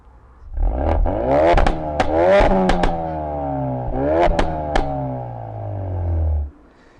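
A Mountune-tuned Ford Focus RS Mk3 exhaust revs repeatedly, rising and falling in sharp bursts with crackling pops between, loud and close, then cuts off.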